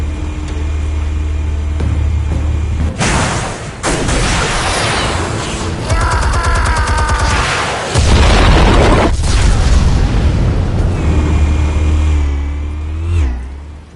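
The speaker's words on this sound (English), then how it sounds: "Explosives armed. Fire when ready." Explosives detonate in the Batman Telltale video game, with several heavy booms and roaring blasts spread across a loud, dense stretch. A rumbling, engine-like roar rises between the hits.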